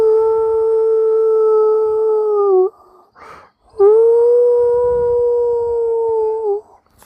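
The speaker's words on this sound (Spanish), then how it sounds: "el perro que teníamos en ese entonces dormía fuera de su casita, y justamente dio un gemido al parecer de miedo." A frightened dog lets out two long, loud, sustained howls close by, steady and tonal with a slight whimpering fall at the end of each, separated by a brief pause with a faint scuffle.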